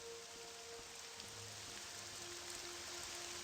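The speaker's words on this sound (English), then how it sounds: "And the rain has started." Steady, even rain falls in the Morrowind game world, a soft continuous hiss with no voices over it.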